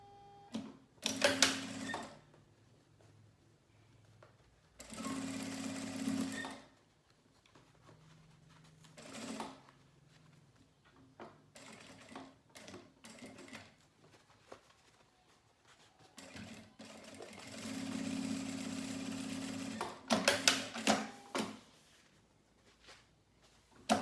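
A sewing machine stitches fabric for a manicure and nail polish pouch, running in several short bursts of rapid whirring separated by quiet pauses, close and moderately loud.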